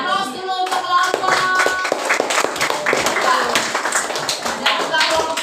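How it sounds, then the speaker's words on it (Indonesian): A classroom group applauds a student group, with a burst of brisk hand clapping from many people that runs steadily throughout, while a voice speaks underneath. "Kita beri aplaus dulu untuk kelompok"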